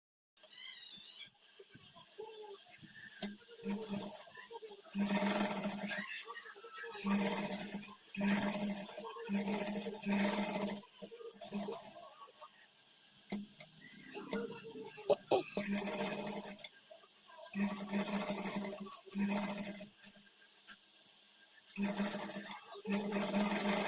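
Sewing machine top-stitching the folded-in lining of a simple kids' peplum blouse, running in repeated short bursts of steady buzzing at moderate volume, with someone talking between and over the runs.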